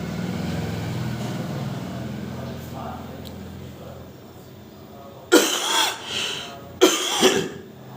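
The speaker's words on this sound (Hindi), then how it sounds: "खांसी है और खांसी है।" Two loud, abrupt coughs ring out near the end, after a stretch of low rumbling background noise.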